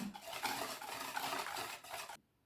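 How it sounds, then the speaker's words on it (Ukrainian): A whisk works a chocolate jelly mixture made with ryazhenka, fermented baked milk, in a bowl, giving a quiet, rapid scraping and swishing close by that stops abruptly near the end. "Тепер беру вінчик і вінчиком добре все перемішаю вже остаточно."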